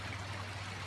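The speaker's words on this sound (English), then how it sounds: "There's the little creek that I more or less followed down to get here." A small creek in river country near the Fraser River flows in a steady, close wash of running water that holds even and unbroken, with no voices heard.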